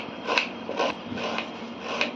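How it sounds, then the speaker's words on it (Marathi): A knife cutting onion on a board for besan, soft rhythmic rasping strokes about every half second, close and fairly quiet, with no voices. "आता आपण कांदा कापूया."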